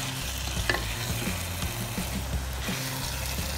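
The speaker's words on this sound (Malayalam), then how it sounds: "നമുക്കിനി ഇതിലേക്ക് ചിക്കൻ്റെ പീസ് ഇട്ട് കൊടുക്കാം. ഒന്ന് ഇളക്കി യോജിക്കും." Chicken pieces stirred in a frying pan for Arabic chicken kabsa, a steady close sizzle with scraping spoon strokes and occasional clanks throughout, no talking.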